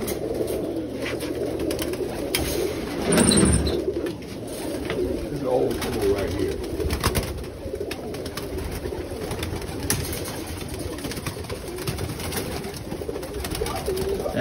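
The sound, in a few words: Birmingham Roller pigeons cooing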